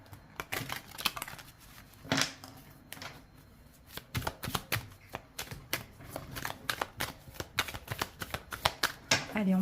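Oracle cards are shuffled and dealt out in a run of crisp riffles and sharp slaps. They come at an uneven, quick rhythm, close and fairly loud, with a little soft talk underneath.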